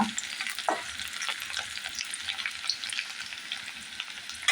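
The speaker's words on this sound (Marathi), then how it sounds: "आता आपण कांदा टाकून देऊया" Half an onion tipped into hot oil for a brinjal potato curry, setting off a loud, continuous hissing sizzle that stays dense and even throughout, with a brief clatter near the start.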